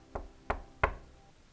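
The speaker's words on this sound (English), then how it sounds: "along came the wolf and knocked at the door of Blacky's house" Three firm knocks on a wooden door, evenly spaced and close, the last slightly louder, with no voices.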